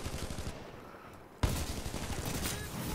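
Rapid gunfire from hip-firing a weapon in Titanfall 2, a dense burst of shots that drops away briefly and then resumes loudly and steadily, with game noise layered underneath.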